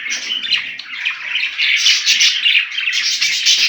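Budgerigar parakeets kept at home squawking and chirping in a dense, continuous chatter, close and fairly loud with no other sound.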